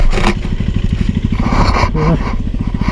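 Motorcycle engine loudly chugging and revving on a tricky, rough mountain trail on the road to Manang in Nepal, with a rapid, steady thumping pulse and scraping clatter close by throughout.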